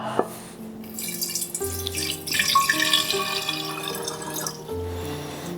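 Water pouring from a tap into a stainless mini keg growler, a splashing, gurgling stream with faint drips that shifts in pitch as the vessel fills, heard up close and alone.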